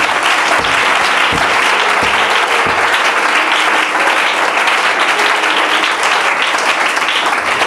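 A congregation applauds loudly and steadily in a French-language church service praising Jesus, a dense, continuous wash of clapping with a few low thumps early on and no break throughout.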